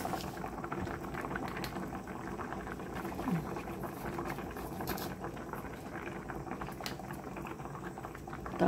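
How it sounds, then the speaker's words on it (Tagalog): Sinigang broth with sweet potato leaves boiling hard in a covered pot, a continuous bubbling and gurgling at moderate level, close by. "kulong-kulo na po mabuti"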